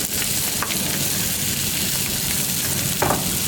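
Black beans sizzling on a flat-top griddle for brisket huevos rancheros, a loud steady hiss of frying throughout with a couple of brief scraping stirs, no voices.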